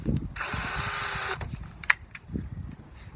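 A power drill whirs in one steady burst of about a second, used to back screws out of wood while building a planter box, followed by a sharp click and faint handling noises.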